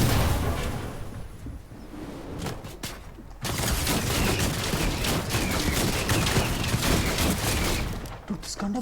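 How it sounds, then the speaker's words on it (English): A video game gun firing nonstop produces dense, continuous bursts of shots and booms that run through the whole stretch, loud and close. Players' voices come in over the gunfire. "this gun doesn't stop shooting."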